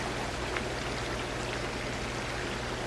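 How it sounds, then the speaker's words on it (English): A mountain creek at a hiking trail crossing on the route to San Jacinto Peak gives a steady, soft rush of flowing water, close by and unbroken, with no voices. "And then another creek crossing right here."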